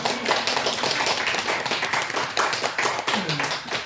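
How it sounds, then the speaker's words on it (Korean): A church congregation breaks into sustained applause during a Korean missionary's revival meeting, a dense, steady wash of many hands clapping close and loud for several seconds without speech. "야, 이거 여기서 주님께 영광이 아주 박수 돌려야 되는 거예요"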